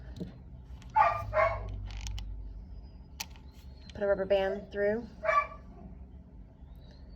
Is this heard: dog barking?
yes